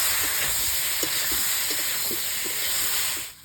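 Boal fish sautéing in a pan with salt and turmeric gives a steady, close sizzling hiss, with faint soft stirring taps scattered through and no talking.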